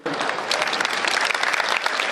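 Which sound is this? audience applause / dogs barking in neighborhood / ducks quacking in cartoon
audience applause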